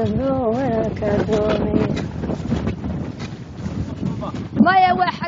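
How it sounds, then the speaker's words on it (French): Strong summer wind in Somalia buffets the microphone in a steady roar, with voices speaking over it throughout. "C'est l'été, nous avons beaucoup de vent."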